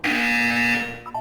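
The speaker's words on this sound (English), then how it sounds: "When you hear the buzzer, look down at the floor." A loud, steady electronic buzzer from the video game Portal 2 sounds alone for about a second, then fades with a brief tonal blip at the end.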